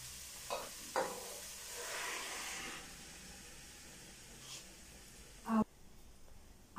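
Blended tomato, chile pimiento and onion salsa poured into a pot of shredded beef, giving a soft low simmering hiss with a few light stirring knocks and scrapes, faint and close, with no talk.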